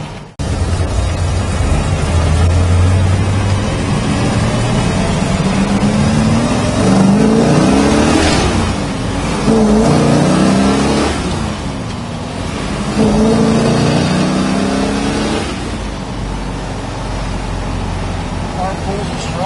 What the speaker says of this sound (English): Car pulls as strong as you want.